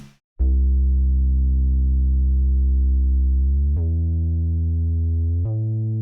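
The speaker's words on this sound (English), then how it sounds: "So this is the sub bass on its own." A deep, pure sub-bass synth tone sustains alone, changing pitch twice with clean, sudden steps between long held notes.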